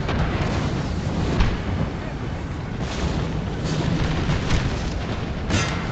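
Cannon fire from artillery in Napoleon: Total War with the Darthmod mod, on farmland at the Battle of Gent: repeated heavy booms roll over a constant roar of battle noise.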